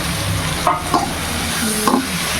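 Onion, tomato and drumstick sautéing in a pan, with a steady soft sizzle and a few scraping stirs of the spoon, close and fairly loud with no talking.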